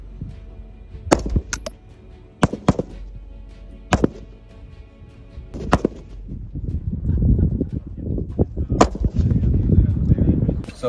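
Several sharp gunshots crack out at irregular intervals on a military live-fire range, loud and close, with a low rumble of outdoor noise and handling sounds in between.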